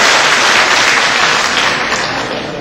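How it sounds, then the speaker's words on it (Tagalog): A crowd at a Nutrition Month gathering in Batangas bursts into steady, dense applause that fades slightly toward the end. "Pumalakpak na po kayo kung tama ang aming observation."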